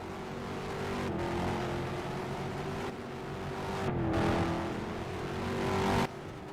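Modified race cars lap the Halifax circuit in a continuous loud engine roar that rises and falls as they pass, with brief shifts in pitch, the sound cutting off sharply near the end.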